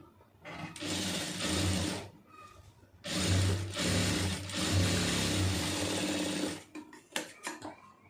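A sewing machine stitches fabric in several long, loud bursts of rapid whirring with short pauses between runs, followed by a few brief clicks at the end.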